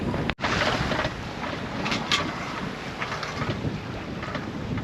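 A sailboat under way at sea, crossing the Strait of Gibraltar, with a constant rush of wind and water against the hull, a brief microphone dropout near the start, no voices.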